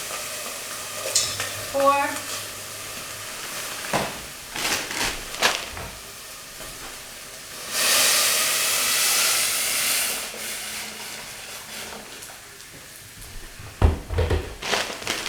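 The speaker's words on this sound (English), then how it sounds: "I'm going to pop my veg in the pan" About four handfuls of frozen vegetables hit a hot pan, with clattering tips, a steady hissing sizzle that swells for a couple of seconds, and stirring scrapes. One short spoken word is heard.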